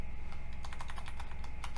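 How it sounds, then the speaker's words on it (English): Computer keyboard arrow keys are tapped in a quick run of light clicks, faint and close, over a steady low background hum. "you can use your arrows on your keyboard to go back"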